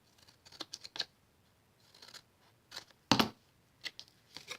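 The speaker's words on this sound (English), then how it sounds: "you're just going to give a snip on each side of these tabs" Scissors snipping paper tabs on a Stampin' Up Halloween project: soft, close crisp snips and rustles in irregular small groups, with one sharper louder cut near the middle.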